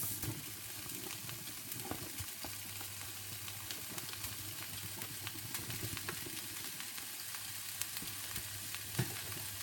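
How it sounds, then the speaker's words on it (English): Lean mince frying in a pan for a cottage pie, a continuous close sizzle with occasional stirring scrapes and light pops, steady throughout and free of speech. "I'm going to fry this off for about 5 minutes until the mince is browned"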